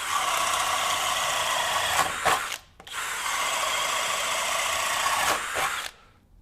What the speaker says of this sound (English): So not a problem at all driving your typical auger bit.